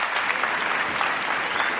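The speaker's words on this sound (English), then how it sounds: "Big round of applause for David." An audience at a stage illusion show applauds in a steady, dense wash of clapping throughout.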